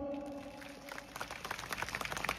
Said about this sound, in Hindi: डिस्ट्रिक्ट कमेटी ने भी जोरदार तालियां और एक बार